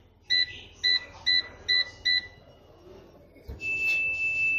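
Havells Prolife air fryer beeping while its timer is set: five short, evenly spaced electronic beeps, then a longer steady tone, clear and close.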